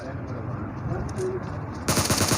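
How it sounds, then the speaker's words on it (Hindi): Gunfire in the mobile battle royale game PUBG Mobile, with faint distant shots and game sounds at first, then a loud burst of rapid automatic fire near the end. "पचिंकी में ये फाइट हो रही थी और फायरिंग फिर फायरिंग"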